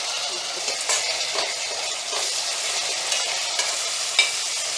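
Shallots and garlic frying in a pan crackle with a steady close sizzle while being stirred, with occasional scraping clicks from the utensil over constant hissing.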